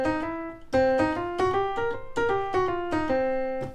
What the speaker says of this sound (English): we're going to learn the blues scale, which sounds like this